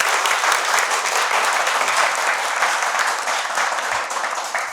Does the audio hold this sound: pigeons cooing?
no